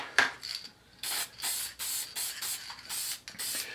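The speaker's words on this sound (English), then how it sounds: "So I'm just going to give it a quick spray here." Several short hissing bursts from an aerosol can of Krylon Crystal Clear spray, close by, in an uneven rhythm of brief pauses between sprays.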